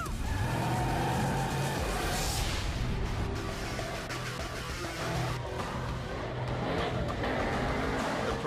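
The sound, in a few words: race cars in a London street race, Fast & Furious 6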